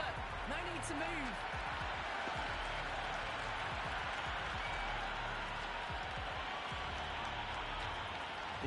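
Crowd noise from a Pakistan vs Namibia T20 World Cup cricket match in the Cricket 26 video game, a dense, steady roar of spectators with scattered claps and cheers throughout.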